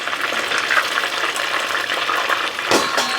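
Chicken wings sizzle and crackle steadily while deep frying in hot oil, a dense bubbling hiss with a brief louder splash near the end.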